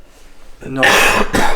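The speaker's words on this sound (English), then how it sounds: "You're coughing all of a sudden quite a bit." A sudden burst of loud coughing, two harsh bursts close together after a quiet moment, with a throat-clearing quality.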